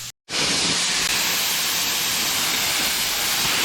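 A spray gun lays a steady, loud hiss of paint onto a custom motorcycle being finished in candy apple red, starting after a brief silent gap and running on unbroken with no talking.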